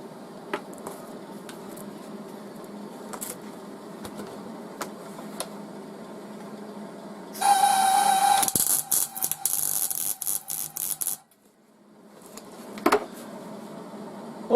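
Electric welding of an uncleaned metal piece held in a homemade welder's third hand: a loud, steady buzzing crackle lasting about four seconds after quieter workshop handling noises, then stopping abruptly.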